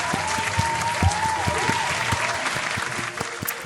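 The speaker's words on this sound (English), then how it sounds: "let me go ahead and do a huge old round of applause to you." A short round of applause, dense clapping of many hands with a few sharper claps, steady and fairly close throughout.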